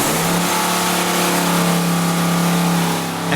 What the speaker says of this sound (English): Just to be certain, Adam revs the engine.